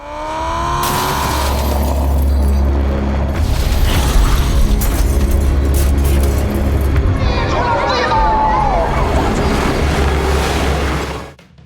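A car smashes up inside a tunnel during a street race, a loud, continuous roar of engines and crashing impacts with booming bursts that fills nearly twelve seconds before cutting off abruptly, with voices babbling underneath.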